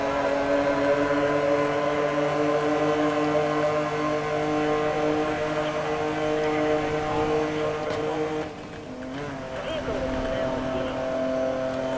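Police sirens wail continuously in Need for Speed: Most Wanted (2012) during a harbor chase, layered over engine drone and loud throughout, dipping briefly near the end.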